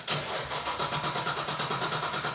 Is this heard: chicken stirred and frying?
no